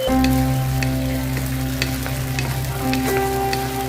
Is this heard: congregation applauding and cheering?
no